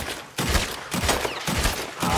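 Rapid video-game gunfire crackles in dense repeated volleys, loud and close, with short gaps between bursts and no talking.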